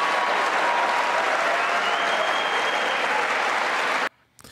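Sustained applause fills the US Congress chamber during a speech on Social Security and Medicare, a dense, steady wash of many hands clapping that cuts off abruptly near the end.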